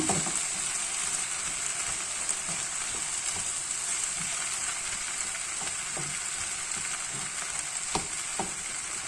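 Onions frying in a pan with salt and pepper, a loud, steady close-up sizzle with occasional crackles and no voices.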